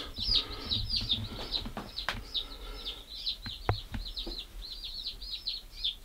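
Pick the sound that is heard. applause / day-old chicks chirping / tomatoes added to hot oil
day-old chicks chirping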